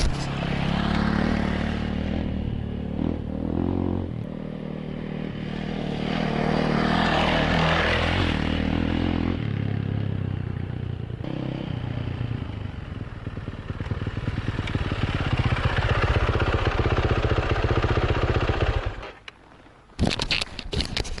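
A fully restored motorcycle's engine runs steadily and loud for about nineteen seconds, with a rough mechanical clatter and shifting revs, then cuts off abruptly near the end.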